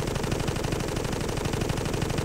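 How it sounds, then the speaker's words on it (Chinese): Rapid, continuous machine gun fire in the Toy Soldiers British campaign, aimed at tanks, a loud, steady stream of closely spaced shots. "我们用机枪来打打看。"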